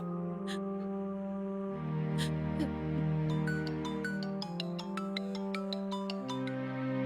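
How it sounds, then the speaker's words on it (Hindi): A phone rings during a call in a dubbed South Indian action film, a steady looping melodic ringtone that plays on for several seconds with faint chimes on top. "माँ सुनो, विश्वा भैया को कॉल लगाओ ना।"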